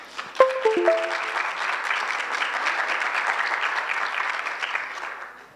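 Audience applause in a hall at a university humanities fair, a few sharp claps and brief tonal sounds at the start, then a full, steady round of many hands that fades out at the end.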